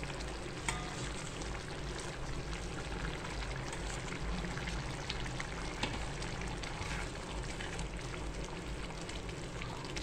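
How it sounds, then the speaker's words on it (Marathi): Crushed peanuts go into boiling water tempered with a seasoning splash. A dense, even bubbling and pouring hiss fills the whole stretch at steady volume, with no talking. "आपण उकळत्या पाण्यामध्ये, त्या फोडणीच्या पाण्यामध्ये शेंगदाण्याचा कूट टाकतोय बरं का"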